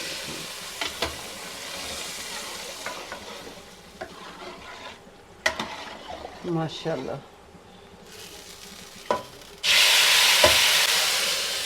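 Tadka for kadhi pakora sizzling in a pan, with scattered stir clinks and spoon scrapes and a louder burst of frying near the end; a voice speaks briefly over it.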